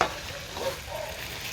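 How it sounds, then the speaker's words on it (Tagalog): Umba sautés in a pan, giving a close, steady sizzle with soft scraping from stirring throughout. "Gigisa na muna natin yung umba na yan"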